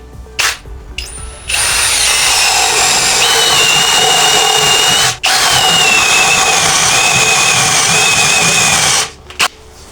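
A power drill whines loudly and steadily, driving a rusty old drill bit while building a workbench from scrap material, with short starts and stops at the beginning and a brief pause midway.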